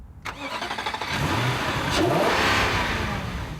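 A 4.5-litre, 315-horsepower V8 car engine revs up hard and holds a loud, throaty roar, rising in pitch before easing slightly; no one speaks.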